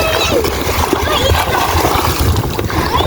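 Water splashes and churns continuously in the sea off Manora Island, Karachi, while someone swims, with people talking and calling out over the steady wash.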